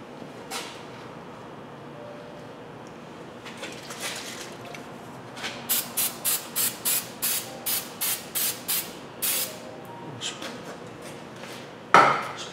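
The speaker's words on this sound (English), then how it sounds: "Spray some fluid film on the hub face there." Short aerosol bursts of Fluid Film sprayed onto the wheel hub face of a 2005 Ford Explorer during rear wheel bearing work, a quick series of about ten evenly spaced hissing spurts, close and moderately loud, after scattered quieter clinks.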